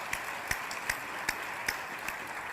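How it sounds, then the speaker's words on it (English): Audience members at a commemorative stamp dedication ceremony clap in an evenly spaced rhythm, fairly distant and moderate in level, with no speech over it. "Let's give him a round of applause."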